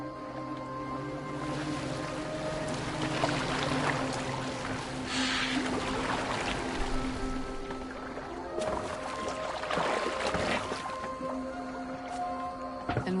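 Water lapping and sloshing around a boat in Assassin's Creed Valhalla, a steady wash of waves and creaking with low ambient drones and occasional splashes throughout.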